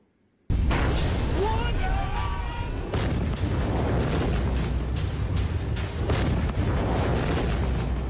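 Ammonium nitrate explosion at the Beirut port strikes suddenly after a brief silence, then a heavy, sustained roar and rumble that fills the rest of the recording, with voices faintly mixed in.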